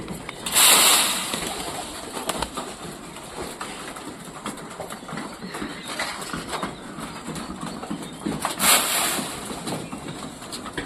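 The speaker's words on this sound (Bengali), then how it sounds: "তো কবুতরগুলো দেখো কত সুন্দর করে খাচ্ছে সব কবুতরগুলো।" Pigeons cooing while eating feed, low soft coos over a busy background with brief flutters of wings, close, no talking.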